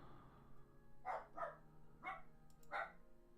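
A pet dog named Asher barks indoors, four sharp barks in two quick pairs, fairly faint and somewhat distant against a quiet room.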